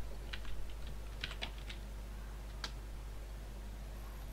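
A short burst of keystrokes on a computer keyboard, a quick cluster of soft clicks followed by a lone tap, close and fairly quiet over a steady low hum.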